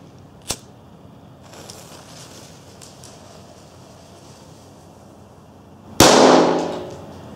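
A mini firecracker lit with a spark lighter: a short sharp click first, a quiet stretch, then a loud close bang that fizzles and decays over the final second.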